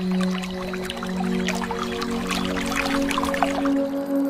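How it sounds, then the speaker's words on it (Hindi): Cartoon scene of water poured onto a tree, a soft, continuous trickle and splash with a few drips, set over a steady tonal musical drone. "और पेड़ को पिला देती है।"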